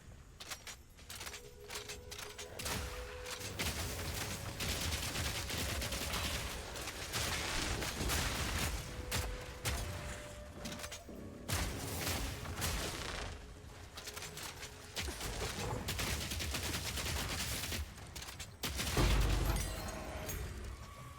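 Explosions in the video game Path of Exile 2 burst in rapid, dense volleys of booms and crackles. They run almost nonstop for over twenty seconds with brief gaps, loud and close, with a heavier blast near the end.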